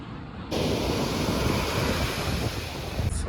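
Large sea waves surging onto the beach at Somnath, a loud, steady roar of surf with wind noise on the microphone, building abruptly after a brief quieter opening and continuing without pause.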